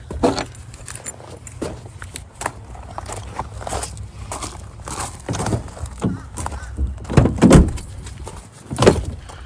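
Keys for a 6.7 L Cummins truck jangle and clink repeatedly up close, mixed with a few soft knocks and shuffling sounds.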